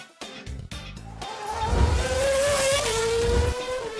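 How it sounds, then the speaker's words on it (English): Mercedes and Ferrari Formula One cars race over cordoned-off downtown Rotterdam streets, engines rising in a loud, close, high-pitched whine after a few brief revving bursts. "Mercedes GPs and Scuderia Ferraris roared over the cordoned-off roads."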